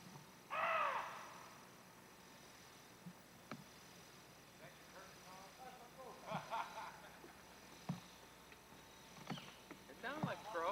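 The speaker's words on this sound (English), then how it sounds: "It sounded like a crow." On a farm, a crow gives one harsh caw early on, followed by quieter scattered knocks and noises as people talk.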